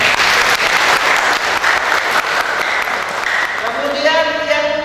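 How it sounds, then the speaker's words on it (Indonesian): Loud, dense applause from an audience at a sholawat gathering in Situbondo, Indonesia, sustained throughout; a voice emerges over the clapping near the end. "Tepuk tangan."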